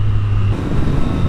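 Triumph Street Triple 765 motorcycle pulling away, a steady engine drone with a low tone that shifts partway through as it gets moving, close and fairly loud under wind rush.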